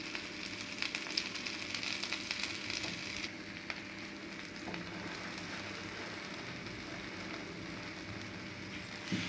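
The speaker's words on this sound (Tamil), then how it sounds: "பாவுலையும் கொஞ்சமாக வெண்ணெய் சேர்த்திக்கோங்க." Pav bread sizzling gently in butter on a pan for pav bhaji, a soft continuous frying hiss with faint crackles throughout, fairly quiet and steady.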